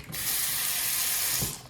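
Water rushes from a bathroom sink tap in a rental house with strong pressure: a steady, close, bright hiss lasting about a second and a half that starts and stops abruptly, with no talking.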